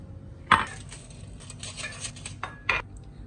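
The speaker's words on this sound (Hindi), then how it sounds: "रखते हैं अपनी ट्रे ओवन के अंदर" Metal oven tray holding bread pizza slices is handled in a home kitchen, giving a sharp clatter near the start and another clink near the end, with quieter scraping and tapping between, close and fairly loud.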